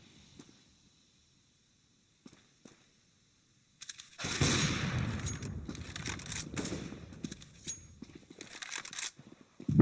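Counter-Strike match gunfire: a few sparse, sharp shots early on, then from about four seconds a dense, loud burst of sustained automatic fire with overlapping cracks, continuing unevenly to the end with no talk over it.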